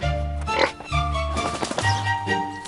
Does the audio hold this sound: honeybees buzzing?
no